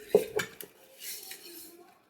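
Fish being mixed with spices, chopped onions, tomatoes and green chillies in a pot, village style, giving a couple of sharp metallic clinks followed by softer scraping and stirring, close and brief.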